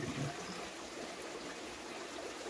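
Clear mountain spring water high on a hillside trickles and burbles in a soft, continuous flow, quiet and close, with no talking.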